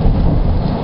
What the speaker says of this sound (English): It's pouring rain. It's like a torrential downpour today